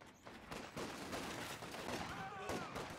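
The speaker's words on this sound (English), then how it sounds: "That machine gun just can't hold the line there for Von Aston." Faint machine-gun fire rattles in a World War II strategy game, with dense overlapping bursts of shots sounding distant and low under a commentator's voice.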